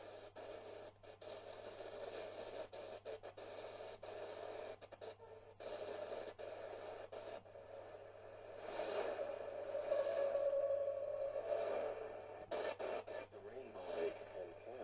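Shortwave reception on the 41 meter band through a TEF6686 receiver with an external antenna: steady hissy static with faint, fading broadcast signals swelling in and out while tuning.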